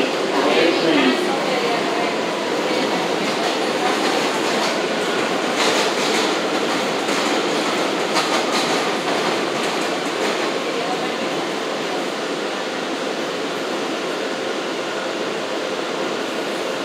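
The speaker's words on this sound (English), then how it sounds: "This is a Jamaica Center-bound J local train." An R179 J subway train runs on the tracks toward Jamaica Center, a loud continuous rumble and roar with rhythmic clickety-clack and faint wheel squeal heard from inside the car.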